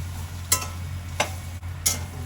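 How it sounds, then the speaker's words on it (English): Chopped vegetables are stirred with spices in a pan for a Bhogi dish, with three distinct scraping strokes of the spoon over a steady low sizzle and hum. "Let us mix them well in the spices."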